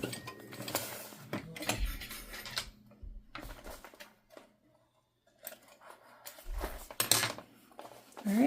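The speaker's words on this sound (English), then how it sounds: "And now I'm going to top stitch this down all the way" A sewing machine top stitching fabric, running in several bursts of rapid mechanical chatter separated by pauses, close and fairly loud.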